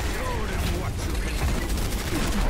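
Turret fire from a match in Overwatch's Uprising event, a dense, continuous rattle of rapid shots with a steady rumble beneath it throughout, mixed with other game effects and voices.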